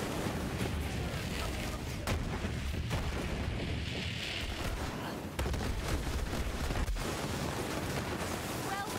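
Slow Hand fully automatic weapon firing in the Borderlands 3 video game, loud rapid bursts of gunfire with booming impacts, continuous and dense across the clip.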